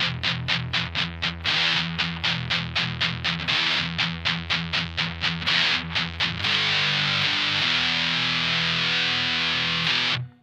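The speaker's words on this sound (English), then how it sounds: "So that's my distorted tone." Heavily distorted electric guitar chugs in tight, rapid palm-muted bursts, then rings out in a sustained, crunchy chord before cutting off.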